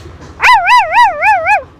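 A voice imitates a dog with one sustained, wavering howl-like call that rises and falls about four times, close and clear, with no talking.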